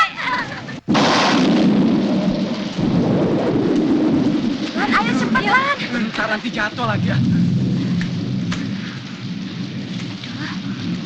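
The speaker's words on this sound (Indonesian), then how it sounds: "Kacau juga nih hujan." Heavy rain pours steadily with a loud thundery rumble near the start, staying loud throughout while several people talk over it.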